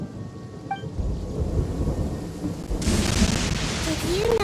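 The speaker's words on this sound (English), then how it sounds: "Did you know that the sound of thunder is the prelude to new life?" Thunder rumbles with falling rain in the video game Genshin Impact, a low rolling roar that swells louder in the second half, with no talk.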